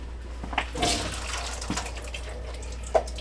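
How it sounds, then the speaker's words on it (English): Liquid from canned black beans being strained off in a kitchen for brisket chili, a soft splashy pour with a faint drip and a small clink near the end, quiet and close with no talking. "before I put them in anything, I strain this stuff off."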